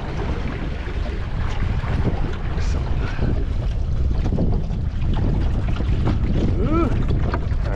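Wind rushing across the microphone on a CLC Skerry, a small sailboat out on its maiden sail, loud and constant for several seconds, with water splashing against the hull and a voice speaking briefly underneath.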